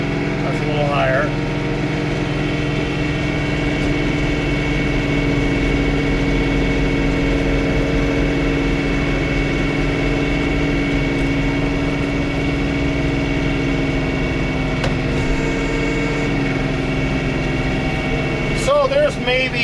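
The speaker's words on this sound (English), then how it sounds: "Let's rev this thing up." A John Deere 3 Series compact tractor engine runs at a steady, loud 2,500 RPM drone while snow blowing, holding an even pitch throughout with a few faint squeaks at the start and end.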